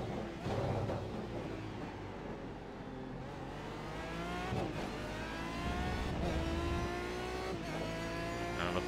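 An Aston Martin DBR9 GT1 racer at Donington Park howls loudly from on board, its engine note repeatedly rising through the gears with sharp upshift breaks and short lifts between pulls.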